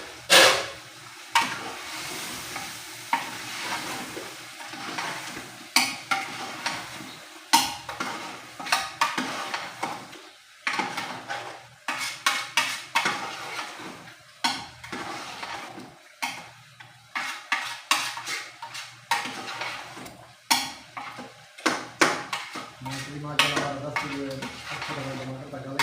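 A spoon stirring 170 grams of yogurt into mutton karahi in a pot, with repeated clinks and scrapes against the metal over a low sizzle, close and busy in bursts with brief pauses, no talk.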